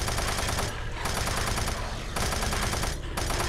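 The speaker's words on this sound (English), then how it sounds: "I'd be overkill using the chain gun on these." Rapid automatic fire from the chain gun in DOOM 3 on the original Xbox, a loud continuous burst that pauses briefly twice before resuming, filling the clip with dense, close gunfire.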